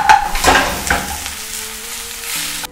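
Pasta sauce cooking in a pan, a close, steady frying sizzle with a few louder bursts early on as it is stirred, then a quieter simmering hiss.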